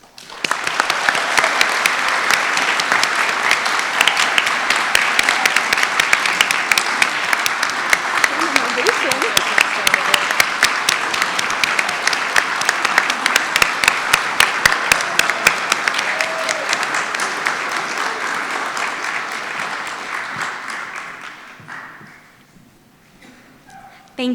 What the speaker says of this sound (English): please join me once again in applauding all of our Junior Honor Society